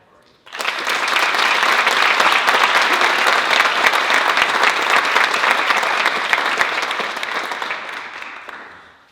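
An audience at a county youth awards ceremony breaks into steady, loud applause for a nominee, starting abruptly, holding for about eight seconds, then tapering off.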